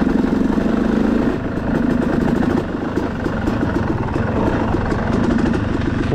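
A motorcycle engine, fitted with a flywheel weight, pulls steadily in third gear with a loud, continuous rumbling drone close by and no talk.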